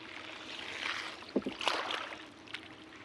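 A small new wooden rowboat is paddled on open water, with soft lapping and wind noise plus a few splashing oar strokes and knocks close by.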